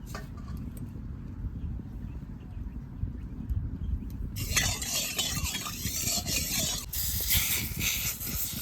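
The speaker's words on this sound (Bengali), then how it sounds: "কড়াইটা ভালো করে গরম করে নিয়েছি এবার সর্ষের তেল দিয়ে দেবো" Mustard oil poured into a hot wok sets off a sudden loud, steady sizzle and hiss after a few quiet seconds of faint background noise, the frying staying bright and continuous to the end.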